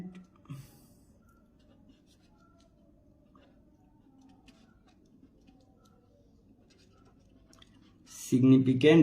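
Marker or chalk strokes on a classroom board during a Bengali ICT lesson on number systems: faint scratchy ticks and taps run for several seconds, then a louder burst of activity near the end.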